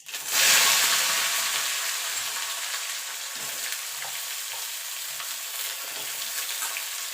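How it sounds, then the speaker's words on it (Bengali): Vegetable stems hit hot oil seasoned with panch phoron, a loud sudden burst of sizzling that settles into a dense, even crackle close by, with faint stirring scrapes and no speech. "ডাটাটা একটুখানি ভাজা ভাজা করে নেব"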